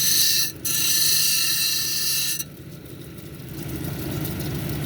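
A silicified sandstone cabochon is ground on a lapidary wheel, a steady loud whirring grind with a brief dip and a change in tone partway through, close and continuous.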